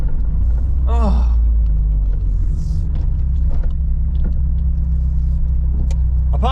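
A Vauxhall Nova 1.6 injection car drives with a steady, loud low engine rumble throughout, a brief squeal near the start and a few faint clicks and rattles inside the cabin.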